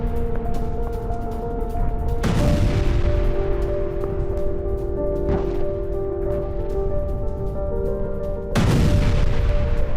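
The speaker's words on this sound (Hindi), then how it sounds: "लॉन्चिंग के ठीक बाद रॉकेट में हुआ विस्फोट।" A rocket explodes just after a satellite launch: two loud, broadband booms, one near the start and one near the end, burst over a steady tonal backdrop.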